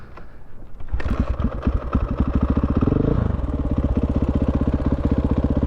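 A dirt bike is kicked over and its engine catches after a quiet start, settling into a loud, rapid, chugging idle with a brief rev in the middle, heard close up.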